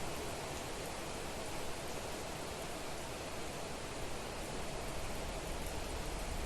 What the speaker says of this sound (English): The rain can spiral if it wants.